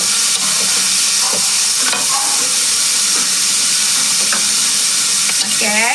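Ingredients stir-fried in a pan give a loud, steady sizzle and hiss, broken by occasional scraping stirs, with a faint voice briefly near the end.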